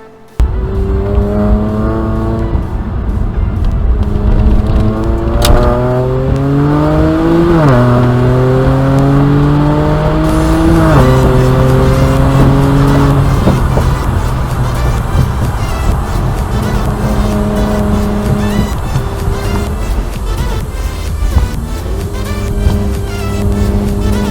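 A BMW E90 335i weekend track car with an N54 engine and Pure600 turbos laps Streets of Willow, heard from the cabin as loud, continuous engine drone that climbs through rising revs, drops at each upshift, then holds steady.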